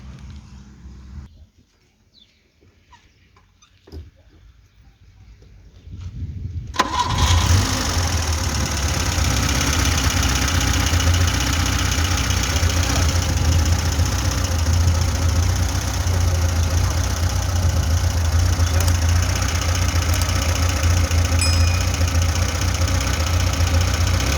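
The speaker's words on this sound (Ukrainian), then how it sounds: "Заведу його і вам покажу, як на даному етапі цей двигун працює" After a quiet stretch with faint handling noises, a not-yet-warmed VAZ 2105 engine cranks, catches and settles into a loud, steady idle that continues to the end.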